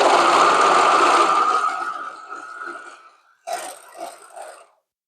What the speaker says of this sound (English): So we'll just stick that right under the serger there, and let's go ahead and sew our cuffs.